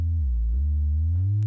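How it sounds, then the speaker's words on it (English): A pure, deep synthesizer sine tone hums steadily, dipping slightly in pitch before gliding back up, smooth and sustained with nothing else sounding. "So start out with our sine wave."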